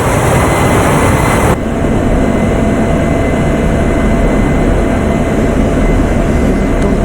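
An F-16 jet engine in a flight simulator game drones as a loud, steady, broadband roar, with a faint shift in tone as the throttle is moved early on.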